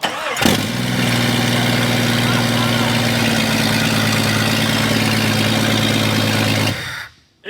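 A Jeep XJ 4.6-liter six-cylinder with an open header and no exhaust cranks and fires, then runs loud and rough at a steady idle before cutting off abruptly near the end.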